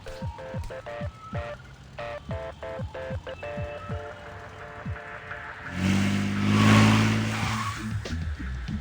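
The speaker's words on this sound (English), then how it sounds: "Wait, Donnie's driving?" A car in a Teenage Mutant Ninja Turtles video game drives with a repeated pattern of engine tones and brief whooshes, then swells into a louder roaring rush that later fades.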